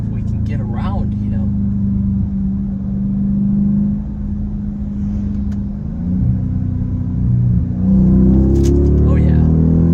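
A Jeep Grand Cherokee SRT with an MBRP Armor Lite exhaust accelerates hard, its deep engine rumble rising and building as the gear kicks in, heard from inside the cabin while people talk over it.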